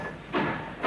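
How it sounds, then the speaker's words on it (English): Cartoon express train in Calcutta pulling away, a brief rumbling chug with a soft hiss and two bursts of puffing, heard up close. "Oh, say goodbye to the train, Bully."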